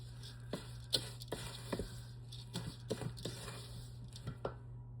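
Spoon works through thick bran muffin batter in a bowl, giving soft irregular wet taps and scrapes, faint and close, over a steady low hum.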